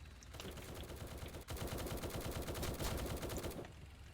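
A 25mm autocannon on a vehicle in War Tycoon firing a rapid, sustained burst of loud, evenly spaced shots, with a brief break early on before the stream of rounds continues, alone without talk.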